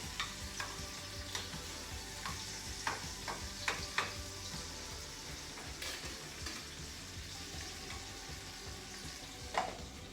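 Salmon fries in a pan with a soft, steady sizzle, punctuated now and then by light taps and clicks of a utensil nearby, fairly quiet throughout with no talking.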